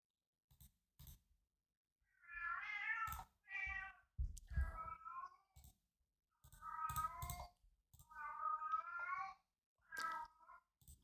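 Cats meow loudly in several drawn-out calls separated by pauses, close to the microphone, with scattered clicking in the gaps.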